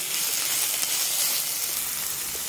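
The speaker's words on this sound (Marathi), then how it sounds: "भाजी चांगली परतून घेऊयात, जेणेकरून कांदा त्यामध्ये चांगला मिक्स होईल" Taklya greens with onion sizzle and hiss loudly in a hot pan while being sautéed, a continuous close frying sound with no voices.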